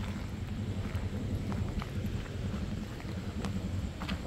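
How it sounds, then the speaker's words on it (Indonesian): Sea waves wash onto an eroding village shore at night, a soft continuous low rumble and wash with faint wind, heard alone at a moderate distance. "bisa dengar ombaknya."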